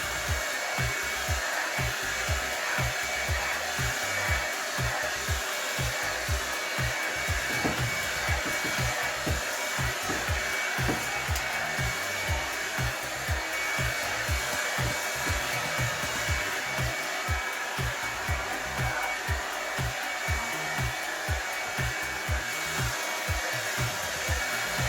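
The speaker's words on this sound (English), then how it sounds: "I'm just using the Revlon dryer just to comb it a bit." A Revlon hair dryer runs continuously while a child's hair is combed through, giving a loud, steady blowing whir with slight fluctuations from the brush and airflow movement, with no talking over it.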